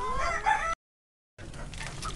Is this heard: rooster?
yes